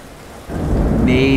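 A thunderstorm swells suddenly from quiet into a heavy roar of rain and deep rumbling thunder, loud and close, and holds steady to the end.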